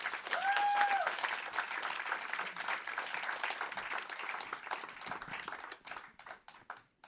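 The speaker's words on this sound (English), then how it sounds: "Please give a good round of applause for Damon Lilly." Audience applause and clapping fill a comedy club as a comedian is brought on stage, steady dense clapping that holds for several seconds before thinning out near the end.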